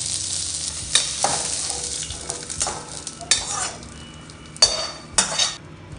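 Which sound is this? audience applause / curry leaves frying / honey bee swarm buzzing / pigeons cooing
curry leaves frying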